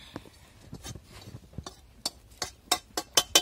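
Roasted red spice paste for stuffed brinjal is scooped out of a kadhai onto a metal plate, with a run of sharp metallic clinks and scrapes that grow louder and quicker toward the end.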